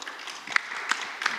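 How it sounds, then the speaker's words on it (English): Scattered applause from a conference room audience at a citizens summit on democracy and ecology, moderate in level with a few sharper claps standing out, no one talking. "You got claps from the room."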